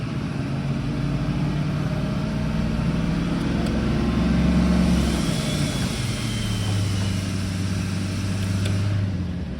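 A truck engine idles with its exhaust brake engaged, a steady, loud, close low rumble that stays even throughout, with slight shifts in pitch and no voices over it.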